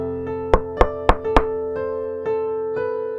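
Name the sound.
knocking on a door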